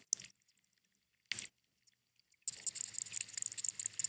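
An aquatic insect recorded underwater, the loudest animal for its size: two brief crackly bursts separated by silence, then a sustained buzzing, chirring rasp with a busy ticking texture that carries on to the end.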